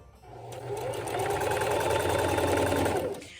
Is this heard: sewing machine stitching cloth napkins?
yes